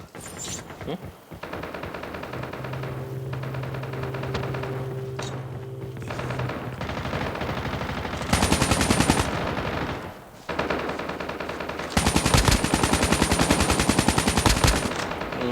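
Rapid automatic gunfire in the battle royale mode of Call of Duty Mobile, with long bursts and short volleys, some nearer and louder, broken by brief pauses as game sounds play beneath.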